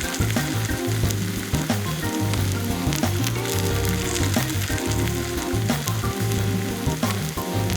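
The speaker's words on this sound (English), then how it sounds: "just listen to the sound of this delicious grilled cheese in the making" A grilled cheese sandwich cooks under the lid of a sandwich press, giving a continuous, close crackling sizzle with fine popping spatters throughout.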